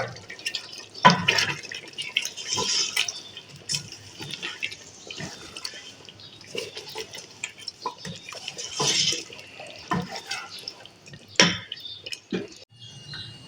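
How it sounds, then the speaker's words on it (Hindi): Water poured and splashed into a large cooking pot while making Karachi biryani, with irregular drips, trickles and clinks of metal rising and falling throughout, fairly close and without talk. "तो दोस्तों मैंने इस पतीले में पानी डाल दिया है काफ़ी"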